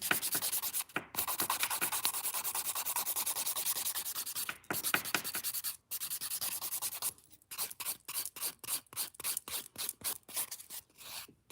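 A nail file rasps against fingernails in quick back-and-forth strokes, first in long runs, then in short, evenly spaced bursts separated by brief pauses, close and fairly loud with no talk.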